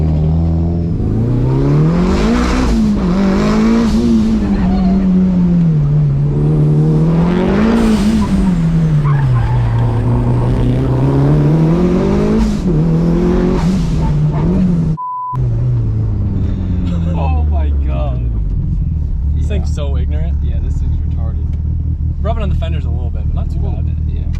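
Mitsubishi Lancer Evo 5 accelerating hard through the higher gears, the engine note rising and dropping with each shift, loud and close, with tire noise and an abrupt cut midway before the revs continue more roughly.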